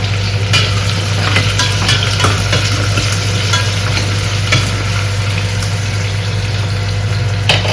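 A generous amount of onions frying in a few spoonfuls of oil for chicken pulao, a loud, dense sizzle with stirring scrapes over a steady low hum, close by and with no voices.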